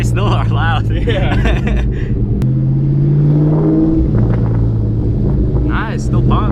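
A supercharged car exhaust with a new muffler setup gives a loud, rumbling idle and rev with crackling pops, close to the microphone and heavily buffeted by wind, while people talk.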